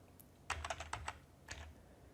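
Fast bursts of keystrokes on a computer keyboard as a website address is typed into a browser, a quick run of close, light clicks followed by a short pause and a few more taps.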